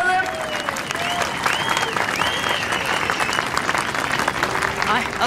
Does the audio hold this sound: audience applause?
yes